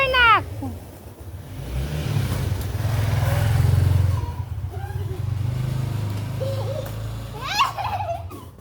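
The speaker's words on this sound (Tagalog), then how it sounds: "May motor na!" A motorcycle passes by on a Philippine street, its engine swelling to a loud rumble and then fading, while a baby squeals and an adult chatters nearby.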